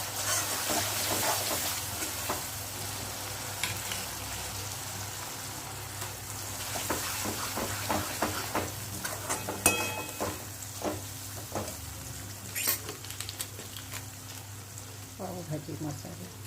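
Cooked pav bhaji vegetables stirred and sizzling in a pan, with a steady frying hiss and scattered scraping clicks of the spoon throughout. Background voice is faint.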